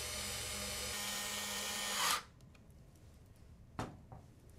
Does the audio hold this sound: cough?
no